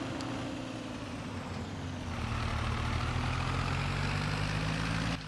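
Slow Oliver tractor in Farming Simulator grinding up a hill, a steady low engine drone with harmonic hum that swells slightly louder midway and holds constant throughout, no voices.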